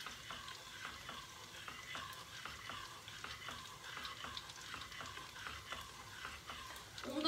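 A spoon is stirred through a flour mixture mixed into nettle puree in a pot on the stove, giving soft regular scraping strokes over a faint sizzle, quiet and steady with no voices.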